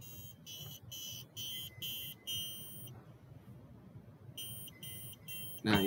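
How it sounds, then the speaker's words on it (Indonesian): Electronic buzzer on a microcontroller test circuit sounding a repeated series of short, loud, high-pitched beeps in an even on-off rhythm, pausing once in the middle before resuming, over low background noise. "Jadi ini kita ngetes yang buzzer."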